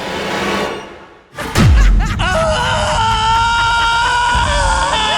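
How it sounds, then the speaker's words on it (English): A woman screams in terror: a sudden low whoosh and thump, then a loud, sustained, piercing scream that holds steady to the end. "I screamed so loud my ears went deaf."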